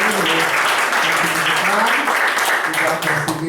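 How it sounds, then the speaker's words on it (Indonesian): Audience at a Prudential gathering applauding for a husband and wife, loud continuous clapping from a close crowd throughout, with voices talking underneath. "Boleh kasih tepuk tangan saya untuk Pak Windy."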